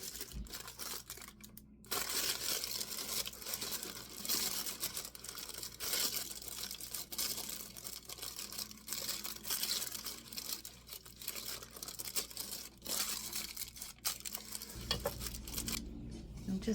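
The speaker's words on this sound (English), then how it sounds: "if you have difficulty getting your parchment to fit in a pan, just scrunch it up like this" Parchment paper is scrunched up by hand to line a baking pan for banana blondies, a close, crisp crinkling and crumpling that goes on throughout at low volume.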